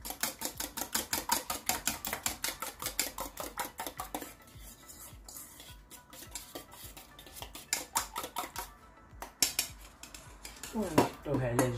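Cauliflower and minced meat are mixed in a bowl, with rapid, rhythmic utensil clatter against the dish, close and busy, easing off midway and then picking up again.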